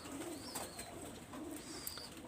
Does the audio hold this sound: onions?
no